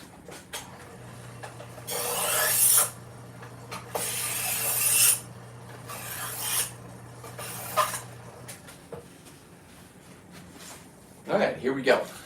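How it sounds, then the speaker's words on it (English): A blade being sharpened with a handful of rasping, rubbing strokes, close and moderately loud, followed by a couple of quieter scrapes, against a low steady hum, with faint speech in the background. "let me sharpen my blade real quick"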